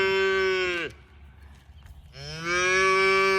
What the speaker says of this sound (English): Get all the mama cows in a 10-mile radius wondering why their baby cows are fussing